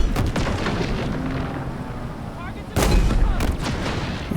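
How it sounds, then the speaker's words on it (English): A Phantom dropship from Halo Infinite swoops in and opens fire during a campaign mission, giving a loud, continuous rumble with heavy booming blasts, and a sharp burst near the end. "You can hear the Phantom coming in."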